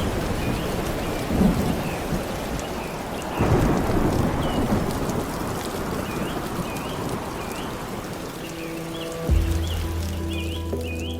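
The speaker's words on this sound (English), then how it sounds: "And then the heavy rain pours down. Thunder splits the sky, and the wind thrashes through the canopy" Heavy rain pours down steadily in a rainforest, with rumbling thunder rolling in at intervals, and soft music rises toward the end.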